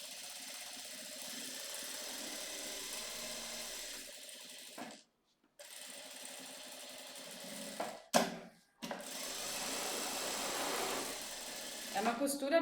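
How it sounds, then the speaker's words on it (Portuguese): A sewing machine stitches along a traced pattern to fix a piece onto batting, running in steady whirring bursts broken by brief pauses, close and fairly quiet. "a gente vai fazer uma costura em cima do risco para estruturar ele na manta"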